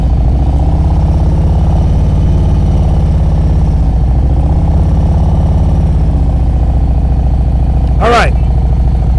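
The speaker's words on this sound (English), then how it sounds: "When I start moving this bike, I'm going to have my clutch in the friction zone." A motorcycle engine idles loudly and steadily as the rider feathers the clutch to creep forward, low chugging throughout with a brief sharp rev spike near the end, and the rider talking over it.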